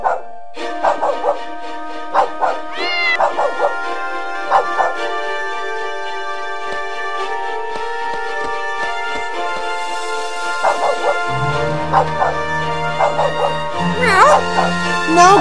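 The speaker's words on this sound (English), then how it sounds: "It's a differentially abled dog." A dog barks repeatedly in the 2002 adventure game Simon the Sorcerer 3D, short yips and woofs scattered over a sustained musical drone and game soundtrack, with a deeper hum entering near the end.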